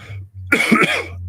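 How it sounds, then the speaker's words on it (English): A single short, harsh cough bursts out over a low steady hum, lasting about half a second. "even if I am coughing"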